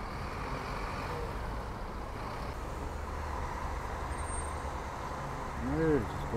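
A Viação Sertaneja intercity bus from Paracatu to Belo Horizonte idles and moves at a busy Belo Horizonte terminal. A steady low engine rumble grows briefly louder near the end.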